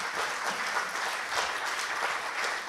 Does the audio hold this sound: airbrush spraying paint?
no